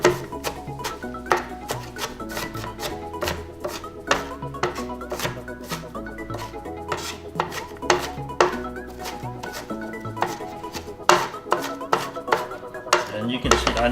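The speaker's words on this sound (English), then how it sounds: "So you need to chop it a little bit." A knife chops thinly sliced onion into smaller diced pieces on a board, giving a steady run of sharp, close blade knocks with clinking kitchen sounds between the cuts.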